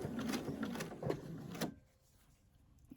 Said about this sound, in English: So I'm going to try to do a little quick seam and see what we get